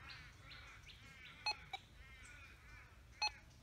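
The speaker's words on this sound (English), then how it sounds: "what we hear is a beep and then a blank" Two short electronic beeps from a Gold Monster 1000 metal detector stand out over steady background noise, one early and one later, each a brief bright tone with a faint blip between.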